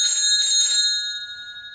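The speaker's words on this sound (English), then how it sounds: "You got a double bell on the handlebars," A double bell mounted on the handlebars of a board track racer motorcycle rings in a quick burst of bright, sustained tones that ring out and fade, close and loud with no talking.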